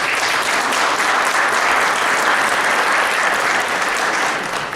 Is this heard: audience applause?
yes